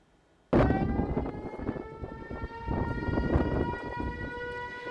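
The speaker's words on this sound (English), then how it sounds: "Those sirens from right outside Fox 17 station here in North Nashville, as Nashville was under a tornado warning earlier this evening" Outdoor civil defense sirens sound a tornado warning in North Nashville, switching on abruptly into a loud sustained wail with layered tones that rises and falls slightly and carries on without a break.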